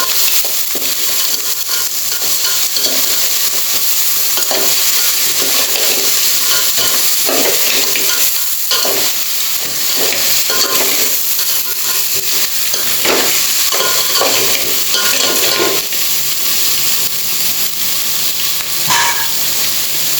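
Goan crab bafat being stirred in a hot pan: a loud, continuous sizzle with repeated scraping and shuffling stirs throughout, and no talking.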